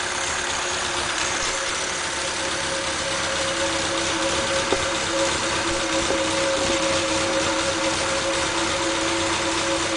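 An MG Midget's 1500cc engine runs steadily at a near idle for the whole stretch, with a constant mid-pitched drone and faint vibration and no voices.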